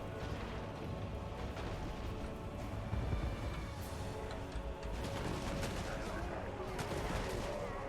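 Dwarf organ guns fire in a Warhammer 2 battle, a dense, continuous barrage of rapid gunshots and booms with scattered battle noise throughout.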